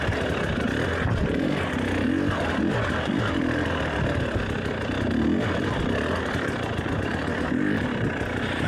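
A motorcycle engine runs steadily and loudly at close range through an off-road race over rocky ground, with a continuous rough drone and clattering, and no voices.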